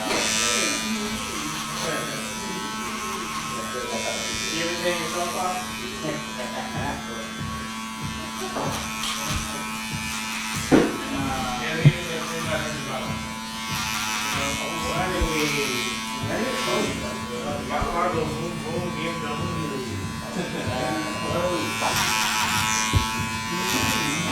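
Electric hair clippers buzz steadily while cutting frizzy hair clipper-over-comb in a barbershop, a close, continuous hum with faint snipping textures, running under someone talking throughout.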